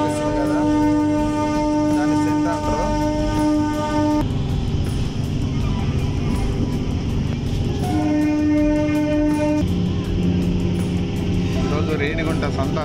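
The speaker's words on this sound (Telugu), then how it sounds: "ఇప్పుడు మూవ్ అవుతుంది డెమో." A DEMU passenger train starts moving beside the Renigunta railway station, with a steady loud rumble and long sustained horn tones that stop and return, all under ongoing background noise.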